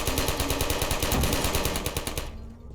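Sentry turrets in the video game Portal fire a rapid, evenly spaced stream of loud gunshot bursts for about two seconds, then fall silent.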